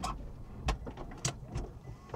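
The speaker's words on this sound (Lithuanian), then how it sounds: "šonuose yra mygtukai, kurie atidaro arba uždaro galinės duris, kaip dabar turbūt girdit" Motorized car doors working with a whirring hum and several sharp clicks and thumps as the latches engage, close by and fairly quiet.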